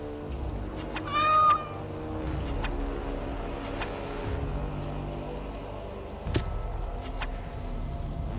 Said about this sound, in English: Who's the pretty kitty?